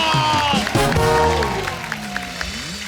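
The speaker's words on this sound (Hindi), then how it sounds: "देव साहब के लिए तालियां।" Studio audience on a television comedy show applauds for Dev Saheb, a loud burst of clapping and crowd noise mixed with voices and music, tapering into scattered claps.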